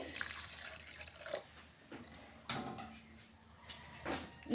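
Water is poured into a bowl of semolina with salt and sugar for pancake batter, giving short, close splashes and trickles separated by brief pauses.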